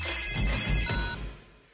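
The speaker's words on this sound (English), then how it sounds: "Let's call her. It's ringing." A telephone rings on an outgoing call, a short electronic ringtone burst with steady tonal pulses, fairly close and clear, no talk over it.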